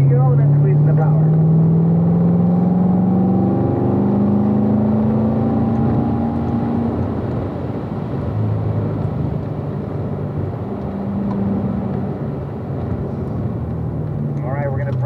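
A car accelerates on a rain-soaked race track, the engine droning steadily and shifting pitch as power comes in, while an instructor talks over it.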